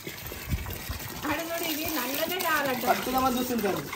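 Water pours into a container at a village home, a steady gushing fill with a rising tone as the level climbs, heard close while people talk over it.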